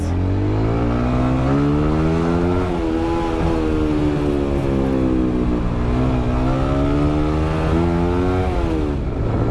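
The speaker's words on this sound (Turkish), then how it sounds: "Şimdi tam gazlama zamanı." A motorcycle at full throttle gives a loud, continuous engine roar with harmonics that climb and dip as it accelerates through the gears, steady and close, with no talking over it.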